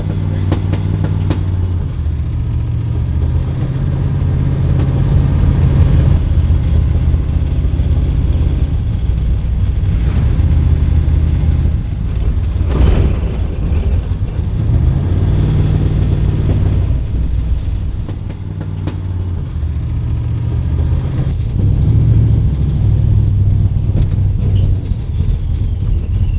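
A supercharged Hemi-swapped 1969 Dodge Dart street car drives on the road in the cold, its engine rumbling loudly with repeated rev swells and easing-offs, no voices.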